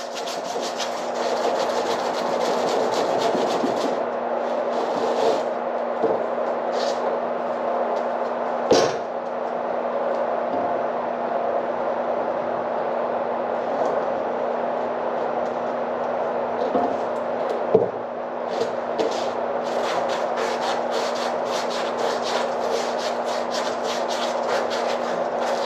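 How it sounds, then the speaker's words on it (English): Wet aluminum foil scrubbed against a rusty metal surface, a steady, continuous abrasive rasping with a few sharp scrapes and knocks along the way. "So here we are, just scrubbing away."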